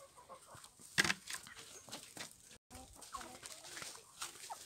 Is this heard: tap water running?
no